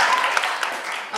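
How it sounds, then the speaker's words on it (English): Audience applause at the IMFDF 2017 fashion show, a dense, steady wash of clapping that stays loud and continuous for the whole stretch, with a few crowd voices mixed in. "Can we give her another round of applause?"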